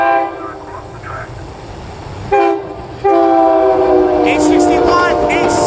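SEPTA train 2516 sounds a loud multi-tone horn as it runs through the Lower State Road crossing: a short blast, then a long sustained chord held to the end over the rumble of the passing train.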